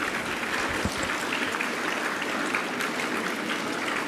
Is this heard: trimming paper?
no